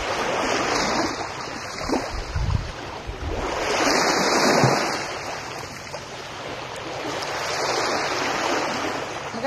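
Sea surf washing onto a tropical provincial beach, a steady continuous rush of breaking waves with swelling surges, heard alone with some wind buffeting the microphone.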